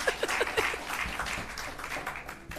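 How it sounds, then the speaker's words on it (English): Audience at a civil service public forum giving a round of applause, close individual claps at first blending into scattered clapping with a few chuckles, fading toward the end. "Give her a round of applause."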